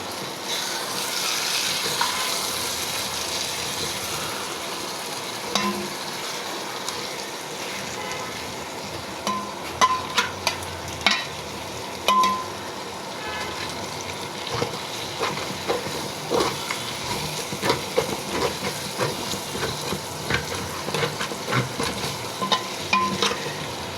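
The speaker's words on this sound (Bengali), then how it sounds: "এভাবে মশলা কষিয়ে মাছটা ভাজা করে" Tilapia fish heads fry in a spice paste in a pan, a continuous close sizzle broken by frequent metallic spatula scrapes and taps as the pieces are stirred and turned.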